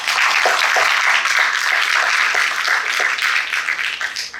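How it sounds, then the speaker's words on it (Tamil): Sustained audience applause for students at a school festival ceremony, a dense, even wash of many hands clapping throughout, loud and steady with a slight fade near the end. "தயவு செய்து அந்த மாணவர்களுக்கு மிகப்பெரிய கரகோஷம் அதை கொடுக்கும்"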